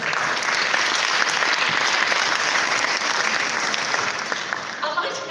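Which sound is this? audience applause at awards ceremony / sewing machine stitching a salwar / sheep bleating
audience applause at awards ceremony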